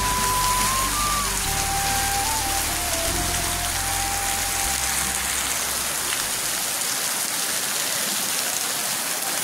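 Heavy monsoon rain pounds surfaces in the Kapan area of Kathmandu, Nepal, during flooding. It makes a loud, dense, unbroken roar throughout, with faint tonal sounds drifting in the background early on.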